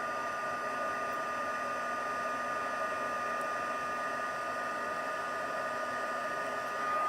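A heat tool blows steadily, melting embossing powder on a greeting card, a constant even whirring hum with no talking.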